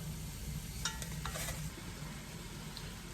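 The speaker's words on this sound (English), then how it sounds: "all we're going to do here is move this around a little bit for about 5 to 7 minutes until all the meat is brown" Chunks of rump roast meat browning in a pot while being stirred, a soft continuous sizzle with a few brief scraping knocks from the spoon, fairly quiet and close.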